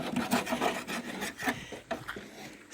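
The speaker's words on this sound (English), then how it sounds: "here's Peppy and Scott on the production line of cleaning up the windows, scraping, cleaning, blowing off" Old antique window frames are scraped and cleaned by hand, giving a quiet series of uneven rasping, rubbing strokes with short pauses between them.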